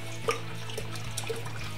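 Green apple pucker liqueur pouring into a watermelon keg, giving a soft steady liquid trickle with a few small splashes and clinks.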